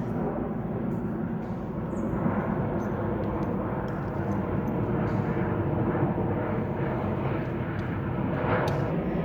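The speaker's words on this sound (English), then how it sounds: "Airplane." An airplane passes overhead, a steady broad engine roar holding level for several seconds at a workplace where big wooden boards are made.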